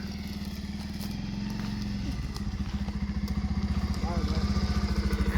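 A Hero motorcycle engine running close by, a steady throbbing idle whose pulsing beat grows stronger and more distinct toward the end.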